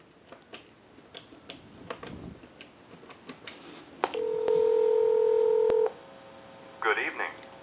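Several quick clicks lead into a long keypad tone on a converted Popeye telephone, then a second short burst of dialing tones, with faint background noise throughout.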